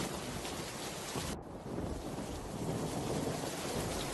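Heavy rain pours over a cartoon village in a dense, steady hiss with a low rumble of thunder underneath and a brief dip partway through; no voices.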